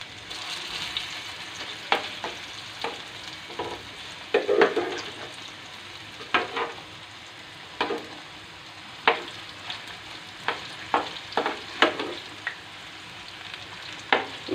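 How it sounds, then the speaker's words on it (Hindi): Potato chapli kebabs fry in a pan with a low, steady sizzle, broken by repeated short crackles and spatters spread irregularly through the clip, close and moderately quiet, with no talking. "ये देखिए हमारे कबाब एक साइड से तकरीबन फ्राई हो चुके हैं।"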